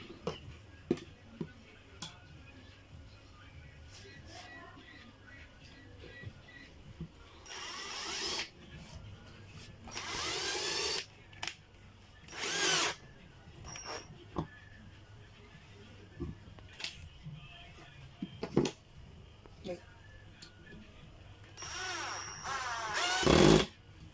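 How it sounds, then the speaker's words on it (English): Power drill drives screws into an incubator egg turner during assembly, giving several short high whirring bursts separated by pauses, with ticking and quiet handling between. "With your drilling machine, Okay."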